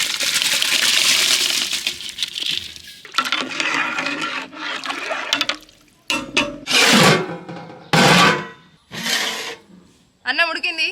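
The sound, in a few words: soaked basmati rice poured into boiling water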